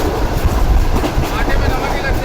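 Pak Business Express passenger train rolling on rails, a steady loud rumble and rattle of the carriages heard from on board, with voices talking over it.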